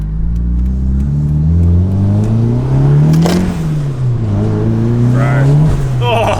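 A turbocharged Mitsubishi Lancer engine revs hard up and down several times on a street, a loud, close rising and falling drone with turbo whir, while someone briefly speaks over it.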